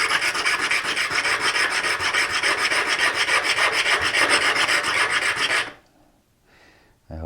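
Stone being ground and rounded by hand into an air plant holder, a loud, steady rasping scrape that runs for about five and a half seconds, then stops abruptly into near quiet.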